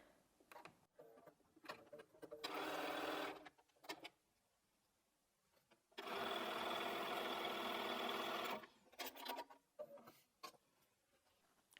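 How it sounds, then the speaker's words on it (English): A domestic sewing machine stitches a quarter-inch seam on quilting fabric, running in two steady whirring bursts, the second longer, with soft handling clicks and fabric shuffling between them. "So I'm just going to sew 1/4 inch."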